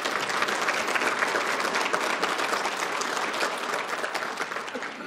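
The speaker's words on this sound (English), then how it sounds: "So let's give both organizations a round of applause." Audience at a city's State of the City address applauds steadily, a dense, even wash of clapping from many hands that continues without break.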